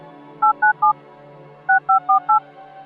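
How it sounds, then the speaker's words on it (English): Telephone DTMF dual-tone signaling beeps: a quick run of three even tone bursts, a short pause, then four more, each a clean steady two-note beep, clear and alone. "DTMF stands for dual tone modulated frequency, and it sounds like this."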